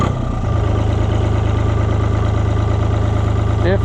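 A Cockshutt 1255 FWA tractor engine runs in fourth gear, a loud steady diesel drone with a rapid low-pitched firing pulse that holds even and close throughout.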